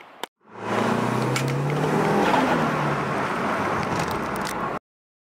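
A 2006 Mitsubishi Lancer Evolution IX MR with a six-speed and a stock Evo 8 blow-off valve revs loudly and steadily for several seconds after a brief click, the engine roar close and sustained before cutting off abruptly.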